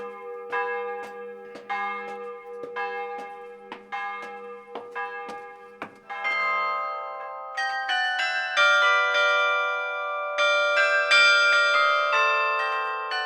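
Carillon bells played from a tower ring out a melody, single struck notes at first, then fuller overlapping chords with a long ringing decay, bright and clear.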